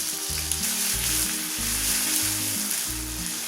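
Grated coconut frying in oil in a pan for Kerala beef roast, a steady loud sizzle running throughout under a bed of tonal background music, with no talking.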